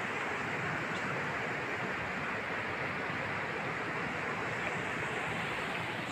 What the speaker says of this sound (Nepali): यो चाहिँ खोला हो